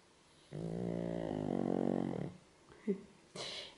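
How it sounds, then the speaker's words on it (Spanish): A man snores nearby, one long, loud, rasping snore lasting nearly two seconds, followed by quieter breathy snorts and a brief rough exhale. "Y ronca como vaya."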